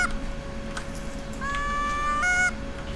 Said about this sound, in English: Now there are geese everywhere.